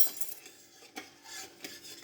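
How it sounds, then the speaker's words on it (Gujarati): Spoon stirring hot sugar syrup vigorously in a pan, sugar dissolved in water with a little starch, giving close, quiet scraping and clinking strokes in an uneven rhythm with no voices. "હવે એને સખત હલાવશું"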